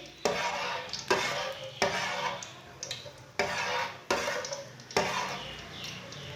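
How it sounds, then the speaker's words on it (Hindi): Whole cumin seeds roast in a cup of hot oil, with a broad crackling sizzle that returns in repeated bursts, each falling away. Sharp stirring or scraping sounds from a utensil against the pan accompany each burst. "जीरे को 1 मिनट तक भून लेंगे।"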